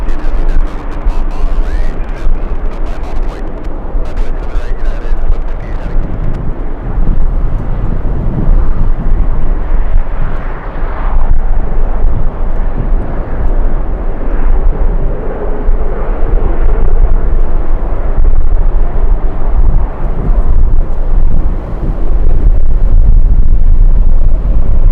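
A Volaris airliner at LAX in strong winds, a loud, continuous roaring rumble of jet engines mixed with heavy wind buffeting on the microphone, sustained for the full stretch.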